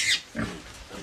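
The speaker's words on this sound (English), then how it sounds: "Sorry for you poor pig," Piglet grunts, two or three short low grunts close by in quick succession, with a faint higher squeal at the start and no talk.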